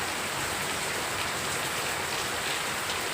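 Steady rain pours down over a village, a dense, even hiss of drops on surfaces with no pauses or voices.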